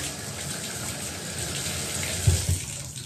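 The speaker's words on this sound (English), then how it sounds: "let me go ahead and rinse it off" Running water pours steadily over hands as coconut mango shave cream is rinsed off at a sink, a close continuous hiss and splash with a few brief lower splashes near the end.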